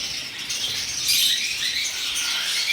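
Pet diamond doves and conures chirp in a dense, continuous chatter of high tweets and flutters, close and fairly loud, with no pauses.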